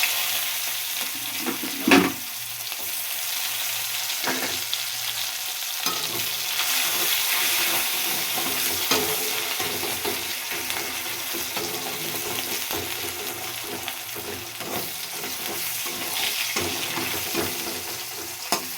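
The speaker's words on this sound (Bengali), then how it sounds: "পেঁয়াজটাকে একটু আমি লাল লাল করে ভেজে নেব" Chopped onions fry in hot oil with panch phoron for a meat curry, giving a steady, dense sizzle with occasional louder stirring scrapes, close and continuous throughout.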